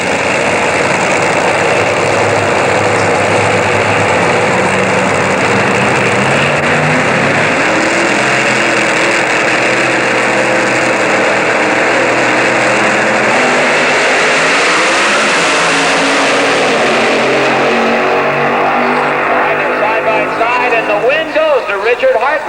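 Drag racing cars, a Dodge Daytona replica against a Corvette at the 1988 NHRA Winternationals in Pomona, roar loudly and continuously as their engines rise in pitch and pull away, with an announcer talking over the noise.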